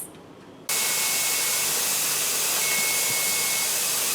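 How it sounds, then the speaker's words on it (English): A pressure canner full of chicken vents a steady plume of steam, a loud continuous broadband hiss that starts abruptly after a quiet moment and holds constant at close range. "It's going to vent a plume, a steady plume of steam."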